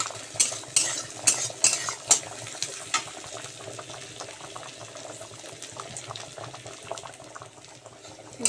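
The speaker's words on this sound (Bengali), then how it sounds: "আমি ফোড়ন দিয়ে দিচ্ছি কালো জিরে। ভালো করে এটাকে আমি ভেজে নেব।" Black cumin seeds frying in hot oil for a tempering, giving a steady close crackle and sizzle with a few sharp spoon-against-pan clinks near the start.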